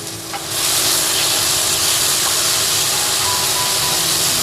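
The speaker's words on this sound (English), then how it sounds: "Now we stir." Indonesian rendang dry curry frying in a pan as it is stirred: a loud, close, continuous sizzle and hiss with occasional scraping, swelling up after a quieter first half-second.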